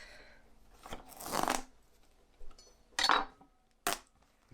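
Fresh pumpkins being cut in half with a knife on a kitchen surface, several separate crunchy slicing and scraping bursts with quiet pauses between them, close and moderately loud.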